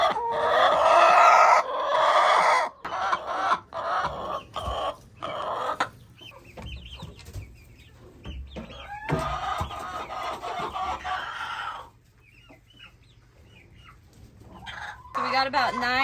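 Chickens clucking and squawking close by on a homestead farm, busy bursts of calls alternating with quieter gaps, mixed with people talking nearby.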